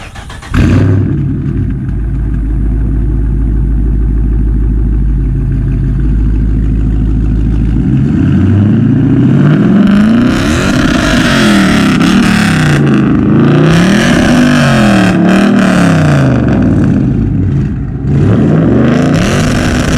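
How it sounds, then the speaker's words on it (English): A widebody car's engine cranks and fires, settles into a loud, steady idle, then revs up and down repeatedly in rising and falling sweeps, close by with no talking. "listen to this thing start up. We'll hear it rev up,"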